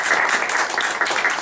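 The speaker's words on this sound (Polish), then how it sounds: "Brawa." Applause from an audience at a local political meeting in Radom, welcoming a guest politician; steady, fairly dense clapping through the whole short stretch with no voices over it.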